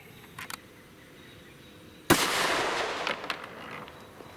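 A single sharp, loud shot from a Glock 29 or XDM 4.5 pistol firing a 10mm Gold Dot 200-grain round into clear ballistic gel outdoors, with a long echoing tail after a quiet lead-in.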